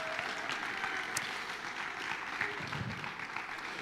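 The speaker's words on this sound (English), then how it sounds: "A round of applause too." Audience applause for the parents at a school event, a dense, steady wash of clapping at moderate distance that carries on without a break.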